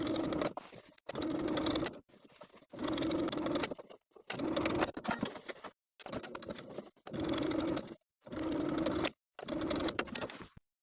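Sewing machine understitching a facing to the neckline seam allowance of a top, running in about eight short bursts of steady whirring stitching, each separated by brief pauses, close and clear.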